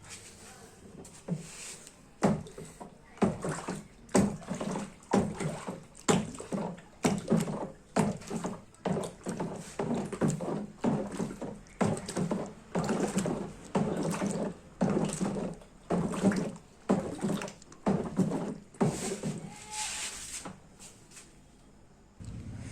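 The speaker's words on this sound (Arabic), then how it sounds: "هنضيفه مع التقليب" Rhythmic stirring of a liquid soap mixture as oil is added, a repeated scraping and sloshing stroke about once per second, close and steady with no talking.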